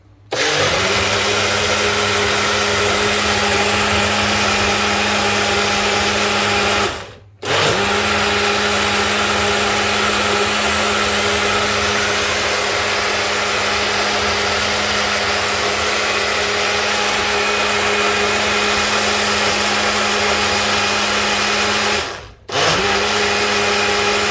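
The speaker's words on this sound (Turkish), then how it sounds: "En son sütümüzü de ekledik ve şimdi de iyice karıştırıyoruz." A blender whirs loud and steady while mixing a milkshake with milk, running in long bursts that stop briefly twice before it starts up again, close by and uninterrupted by talk.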